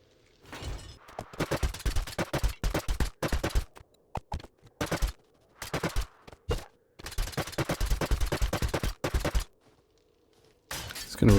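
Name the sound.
nail gun repairing base in a survival video game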